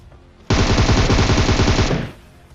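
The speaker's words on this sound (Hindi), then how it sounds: "अब यहाँ पे ये बंदा भाई छत पर खड़ा हुआ इस तरीके से फायर दे रहा था भाई जिस तरह फुरकान बीडी के नशे करके आए हो।" An enemy standing on a rooftop in a battle royale video game fires one loud, sustained automatic burst of rapid gunshots lasting about a second and a half, then it stops abruptly.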